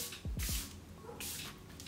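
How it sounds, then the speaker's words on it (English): A few short hissing bursts of Charlotte Tilbury Airbrush Flawless Setting Spray misted onto a made-up face, close and fairly soft, with brief pauses between sprays. "I spray it with the Airbrush Flawless Setting Spray, again by Charlotte Tilbury"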